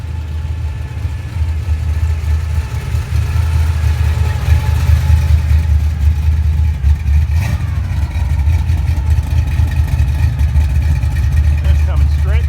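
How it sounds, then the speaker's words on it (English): A Camaro rumbles in at a seaside classic-car cruise night, its engine a steady loud low drone rising slightly as it nears, with voices talking over it. "here comes a really, really bad Camaro. So let's get a shot of this one as it comes in"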